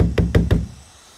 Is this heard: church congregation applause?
no